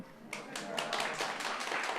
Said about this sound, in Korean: 우레아 같은 박수를 쳐줘서